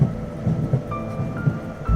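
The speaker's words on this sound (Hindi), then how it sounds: "बाहर बरसात हो रही थी।" Rain falls steadily with low thunder rumbling through it, a constant wash punctuated by several soft deep thumps, fairly close and moderately loud.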